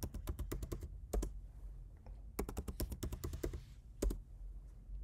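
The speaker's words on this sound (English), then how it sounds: "Go ahead and enter in your MacBook password." Someone types a password on a MacBook keyboard, with two quick bursts of light key clicks separated by a short pause and a few scattered taps, close and quiet.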